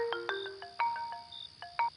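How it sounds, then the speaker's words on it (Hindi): A bright electronic ringtone melody of short tonal beeps repeats over about two seconds, clear and close, with no voices. "किसका फोन आ गया?"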